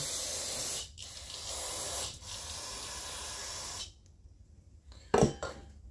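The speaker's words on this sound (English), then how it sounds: "Spray them down real good." An aerosol can sprays in long hissing bursts onto parts during a top-end rebuild of an MS193T chainsaw, pausing briefly between them, followed by a few short clicks and clunks nearby.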